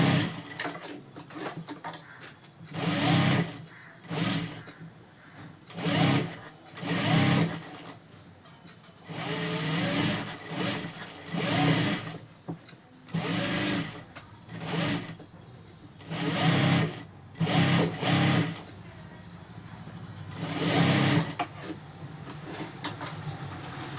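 A sewing machine stitching blouse sleeves runs in repeated short bursts of rapid mechanical clatter, starting and stopping throughout with brief quieter pauses between runs, close and fairly loud.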